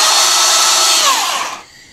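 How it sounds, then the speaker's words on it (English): A Ryobi Portaband portable bandsaw with a 33-inch blade runs loud and close in a steady high motor whine, dropping off as it winds down near the end. "This bandsaw is probably one of the most useful tools I've ever used."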